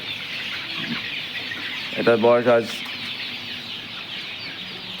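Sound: tiger breed chicken chicks clucking

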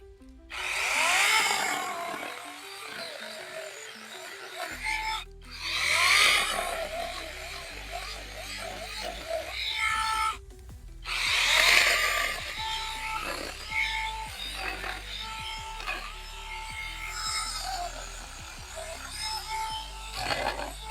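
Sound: PRO-CRAFT PKA46 cordless saw cutting raw wood

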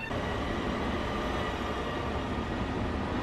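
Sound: train at station in video game Train World Sim 2020

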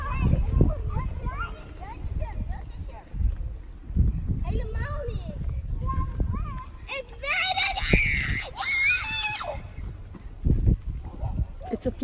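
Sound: children screaming at a playground

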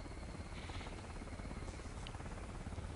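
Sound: helicopter in video game Counter-Strike: Condition Zero

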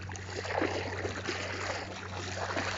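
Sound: fast-flowing floodwater

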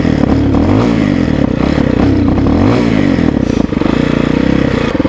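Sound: TaoTao TBR7 230cc dual-sport motorcycle engine revving

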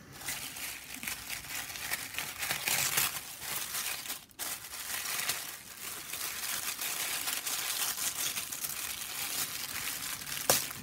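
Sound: paper wrapping being unwrapped, crinkling and tearing

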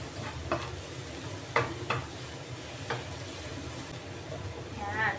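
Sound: garlic sizzling as it browns in a pan

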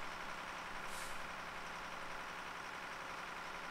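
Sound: truck engine and air brakes in Farming Simulator 2015 video game

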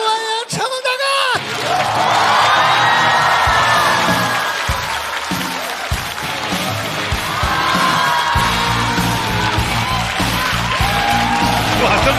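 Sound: audience applause and cheering welcoming Jackie Chan

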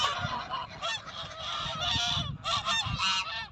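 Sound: geese honking in a garden

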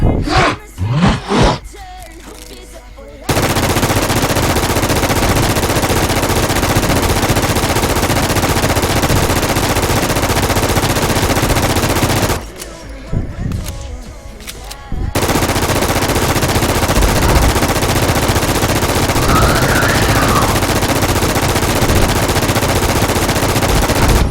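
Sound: QBZ rifle firing at a boss in a video game

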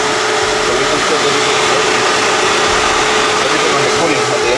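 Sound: car engine running while warming up

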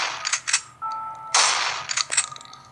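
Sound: gunfire in a zombie shooting video game

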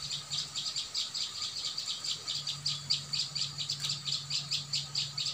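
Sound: prinia (prenjak lumut) bird calling

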